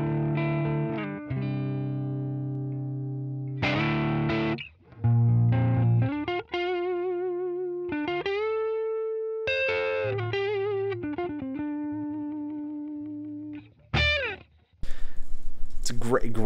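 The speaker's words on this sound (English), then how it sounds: "Let's stay on the neck pickup here and just kind of give you some more playing of clean." An Epiphone Les Paul 50s Standard in Lemon Burst, played clean through the neck pickup, rings out in sustained chords and single notes, loud and close with short gaps between phrases and a brief noisy burst at the end.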